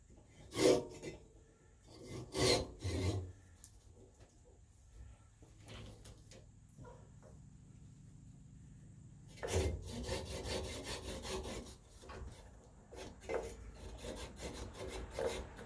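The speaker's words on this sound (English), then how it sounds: "use my narrow curved pull saw" A narrow curved pull saw cuts through maple wood in quiet, rasping strokes, starting with a few separate pulls and then settling into a faster run of scraping strokes, close by and faint.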